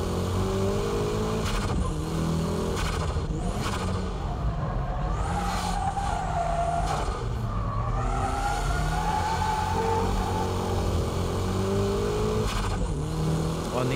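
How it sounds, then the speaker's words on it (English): Race car power drifting uphill on a mountain course, its engine revving and rising and falling continuously with bursts of tire squeal, loud and close throughout. "And from here, it's power drifting."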